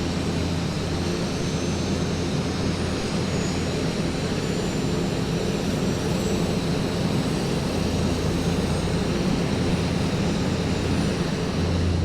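A Piaggio P180 Avanti turboprop engine spooling up during start in Microsoft Flight Simulator, a constant loud broadband whine and rumble with a steady low hum, no voices.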